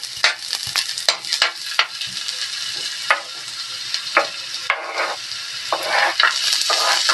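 Ginger fries in cooking oil in a pan with a steady close sizzle, broken by repeated sharp stirring scrapes and clicks at an irregular rhythm.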